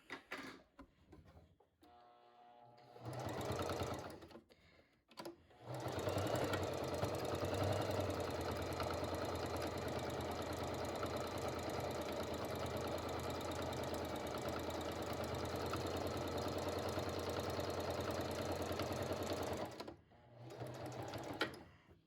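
A sewing machine stitches along the edge of a fabric face mask, a couple of brief starts and then one long steady whirring run of about fifteen seconds before stopping and restarting briefly, close and quiet, no talk.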